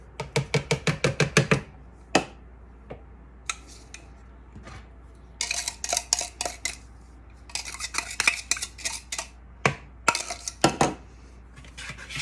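A whisk clatters against a bowl while cobbler batter ingredients are mixed. Quick, rhythmic metallic taps come first, then looser scraping strokes and clinks follow in uneven clusters, close and clear with no talking.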